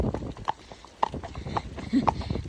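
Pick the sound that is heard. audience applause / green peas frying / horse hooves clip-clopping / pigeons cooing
horse hooves clip-clopping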